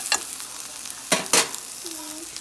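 Omelet frying in a home kitchen pan, stirred with a few sharp scrapes and soft sizzling, quiet and close with no talk.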